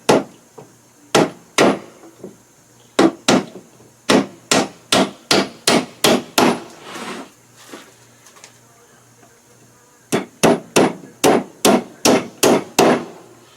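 Nails hammered into a wooden medium-depth honey super box, sharp loud hammer strikes in quick bursts of repeated blows separated by short pauses, close and alone.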